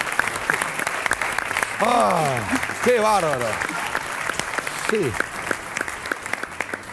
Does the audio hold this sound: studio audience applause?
yes